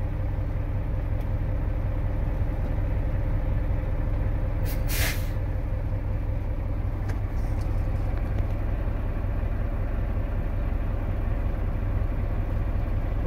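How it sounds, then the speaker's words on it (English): A truck's service brake pedal being fanned during a CDL air brake test, with a loud diesel engine idling steadily throughout and one brief hiss of released air near the middle. "I'm going to begin fanning my service brake."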